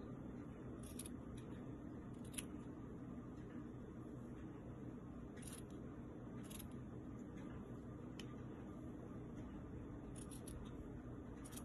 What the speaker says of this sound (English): you go ahead and snip all the edges, and then you cut off any excess fabric